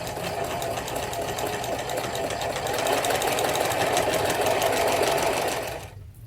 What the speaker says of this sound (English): And we're sewing everything here on our blocks with a 1/4 inch seam.